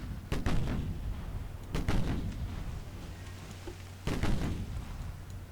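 Naval guns fire in the warship game Ultimate Admiral Dreadnoughts during a 1940 British campaign. Three separate booming salvos each trail off into a rumbling decay, at moderate loudness over a low background hum.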